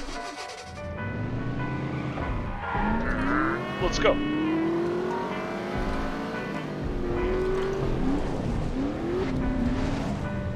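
A car engine in the video game The Saboteur revs and shifts pitch through acceleration, with tire squeal along the way and a voice talking over the steady engine drone.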